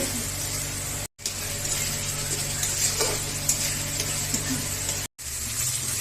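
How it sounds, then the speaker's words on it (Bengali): Spice paste with chopped tomato and salt sautéing in a pan, a steady close sizzle with faint stirring, broken by two brief silent gaps. "এখন মশলাটা ভালো করে কষিয়ে নেব"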